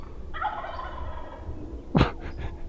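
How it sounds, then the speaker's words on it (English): A turkey gobbles once, a rapid warbling rattle at moderate distance, followed by a short sharp call and a couple of fainter notes over quiet outdoor background. "Turkeys."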